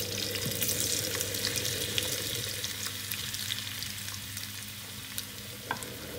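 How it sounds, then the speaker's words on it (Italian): Potatoes frying in hot oil in a pan, a steady dense sizzle with crackling pops and occasional stirring clicks, close and continuous with no talking. "L'olio frigge e adesso ci mettiamo tutte le nostre patate."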